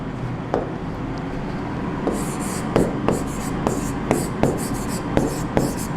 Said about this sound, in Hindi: अपन वो लिखते हैं